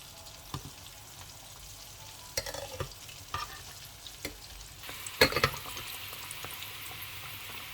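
Floured dumplings fry in a pan, a soft bubbling sizzle under several sharp clinks and scrapes of a utensil stirring, with a louder burst of splashing sizzle near the end as food goes into the oil.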